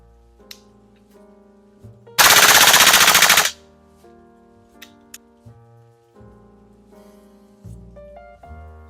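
A Salvo Precision MCX Spear LT gas blowback airsoft rifle, built on TM MWS internals, fires a loud close-range full-auto burst of just over a second. Scattered clicks and light mechanical handling noises come before and after it.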